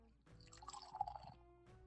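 Beer pouring into a glass, a soft, faint stream of liquid trickling and splashing for about a second with no voices.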